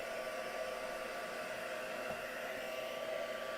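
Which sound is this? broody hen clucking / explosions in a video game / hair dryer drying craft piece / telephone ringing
hair dryer drying craft piece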